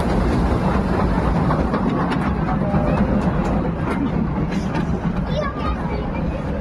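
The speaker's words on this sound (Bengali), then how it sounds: "এই দেখো ট্রেন যাচ্ছে" Small amusement park ride train at Happy Valley Park rolling past with a steady rumbling and light rattling clatter, fairly close, while a person talks over it.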